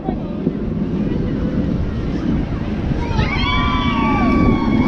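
A theme park ride at Paultons Park rattles and rumbles continuously as it runs, with steady wind rush over the microphone and faint squealing from the track.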